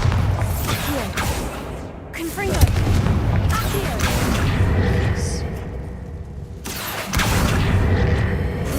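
Bombarda and Confringo spells in Hogwarts Legacy burst into repeated booming explosions and sharp cracks amid ongoing combat noise, with a voice calling out between the blasts.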